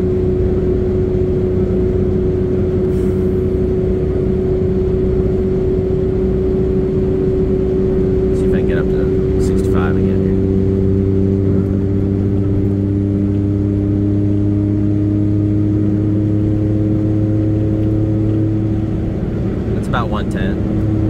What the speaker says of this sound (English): She's yelling, but the engine really has no problems with it.